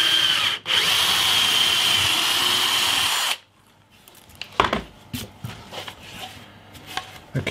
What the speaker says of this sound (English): let's get the hole drilled